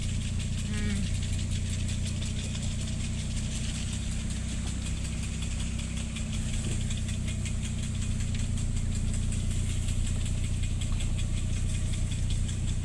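A car engine runs steadily at low revs with a constant rumbling drone and faint knocking while the car turns around on a road near Sreemangal in Sylhet, with no voices.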